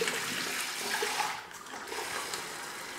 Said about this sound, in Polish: Naleję sobie wody.